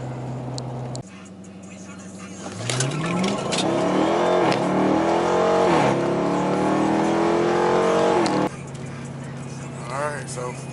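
A 2015 Dodge Charger R/T revs up hard from idle, its engine note sweeping upward through several rising pulls before dropping back to a low idle rumble, loud and close from inside the car.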